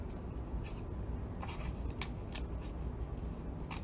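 Scissors snip a line into a paper craft piece, making several short crisp cuts and rustles at close range over a low background hum, with no talking.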